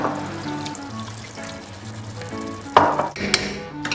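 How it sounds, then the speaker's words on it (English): A pan of shrimp for pasta sizzling steadily up close, then a sudden louder hiss and splash as liquid hits the hot pan near the end. "As soon as it starts to fizzle, we add the wine."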